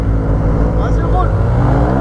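A 2015 Yamaha TMAX 530 scooter fitted with Malossi parts revs steadily up close with a rough, droning engine note while its tyre smokes, and people talk over it.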